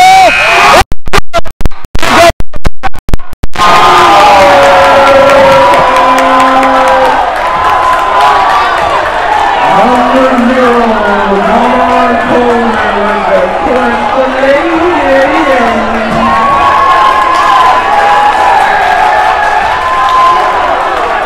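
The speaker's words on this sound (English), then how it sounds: "Listen to the crowd." A college basketball crowd erupts after a buzzer-beating layup, loud sustained cheering and whooping with shouted voices rising and falling, opened by a few sharp crackling bursts.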